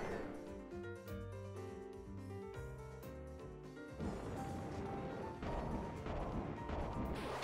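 In Kirby Star Allies, objects are smashed and broken to a backdrop of game music, with repeated sharp crashes and thwacks that grow denser and louder in the second half.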